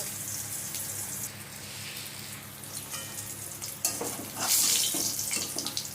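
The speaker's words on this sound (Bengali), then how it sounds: "এবারে ফুলকপিটাও লাল করে ভেজে নেব" Cauliflower frying in hot oil, a steady close sizzle that swells louder toward the end with sharp crackling spatters, no talking.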